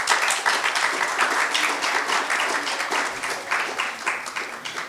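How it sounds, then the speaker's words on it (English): Sustained audience applause fills a conference hall after a panel discussion on advertising, a dense steady wash of many hands clapping with no talking over it. "please give them a round of applause"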